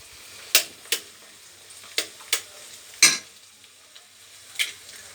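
Two cracked eggs cook in a hot pan under a low, soft sizzle, broken by several sharp scraping and tapping strokes from a utensil at uneven gaps, with no talk.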